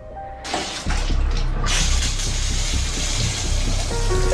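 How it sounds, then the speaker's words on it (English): Water starts running after a brief moment and then pours steadily, a continuous hissing splash like a tap or shower close by. "the sound of the water running"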